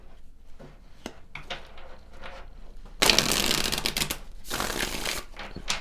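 Tarot cards are handled with light scattered taps and slides at first, then a dense, loud burst of riffle-shuffling and a second rustling shuffle close by, with no talking.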